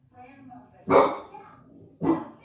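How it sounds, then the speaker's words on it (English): A pet dog barks indoors, two loud, close single barks about a second apart over a quiet background. "one dog barking at absolutely nothing"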